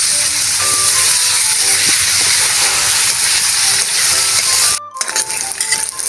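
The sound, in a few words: fried tofu (tokwa) poured into hot oil, frying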